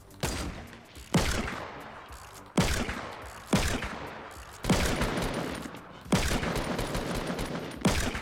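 Gunfire in Fortnite: six or seven loud, sharp bursts of shots at irregular intervals, each decaying into a rattling echo, close and dominant.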